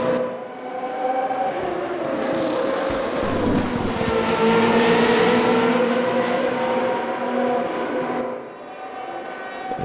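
Race cars in a sim racing game howl down the straight in a sustained, loud engine drone that climbs and holds as they pass close by, then thins out near the end.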